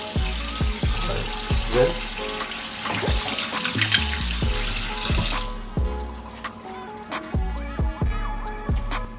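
Water running into a kitchen sink and gurgling down the drain after unclogging, a steady rush with clunky knocks and pops, then quieter draining with intermittent thuds; a brief spoken word.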